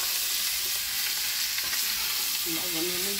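Pumpkin and chili frying in a pan while being stirred, a steady close sizzle under light scraping, with a few brief tonal clinks near the end.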